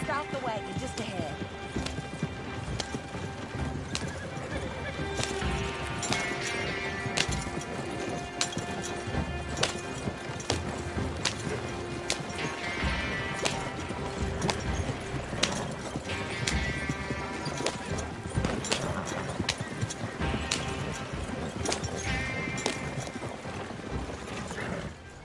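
Horse hooves clip-clop steadily while a horse-drawn wagon rolls along in the Red Dead Redemption 2 video game, with rattling wagon sounds, a faint whinny and voices talking throughout.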